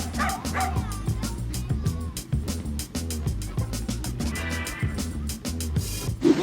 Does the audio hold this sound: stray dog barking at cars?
yes